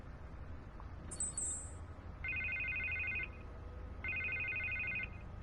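Two electronic phone rings in Batman: The Telltale Series, each a bright, steady trill lasting about a second, sounding clearly over a low ambient game background, with a short high chime just before them.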